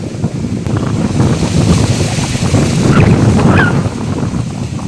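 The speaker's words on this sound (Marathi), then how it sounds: "आता हवा सुटली ना त्याच्यामुळे ऊन पण जरा कमीच लागते." Steady wind blows across an open farm field on a hot day, a continuous broadband rush buffeting the microphone with gusty swells throughout.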